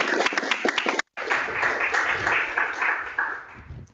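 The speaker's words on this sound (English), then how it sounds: "give our speakers a great round of applause" An audience at a science conference applauds its speakers: dense, close clapping with distinct sharp claps, a brief gap, then a sustained round that gradually thins out.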